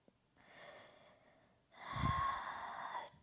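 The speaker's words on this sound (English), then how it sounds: "Two more breaths, in through the nose and out through the nose." Slow breaths in and out through the nose during a yoga flow, a soft exhale followed by a longer, fuller breath, close and quiet with no talking.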